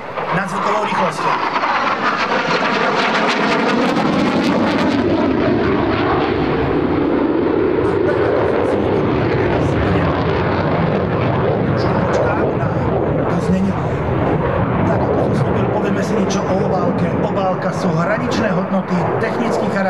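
A Hungarian Air Force Saab JAS 39D Gripen fighter jet roars past loudly at an air show, engine noise swelling and shifting in pitch as it sweeps by, then a sustained rumbling roar continues.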